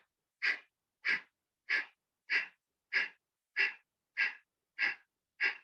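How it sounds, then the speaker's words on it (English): Nine sharp, forceful exhalations through the nose during yoga breathing practice, evenly paced about every two-thirds of a second, close and clear against near silence. "and exhale out."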